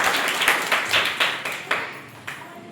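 A church congregation at a Lenten Friday Holy Mass claps loudly in thanks, a dense burst of applause with sharp accents that fades gradually over a few seconds.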